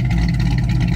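A TorqStorm-supercharged Dodge Challenger with a 5.7 HEMI and Tomahawk cam gives a loud, close, deep, steady engine roar at wide open throttle in one brief sustained burst.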